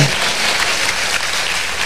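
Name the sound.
congregation applause at Mass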